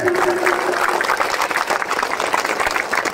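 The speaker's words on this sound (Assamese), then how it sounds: "আপোনালোকে লগে লগে একদম হাত তালি বজাই আমাক দোৱা কৰিব" Crowd clapping at a panchayat election campaign rally in Assam, a loud sustained burst of many hands applauding together, dense and steady for several seconds.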